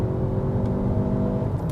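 A 2016 Mazda CX-5 engine buzzes under full acceleration, a sustained droning whir heard from inside the cabin, steady and moderately loud, with no one speaking.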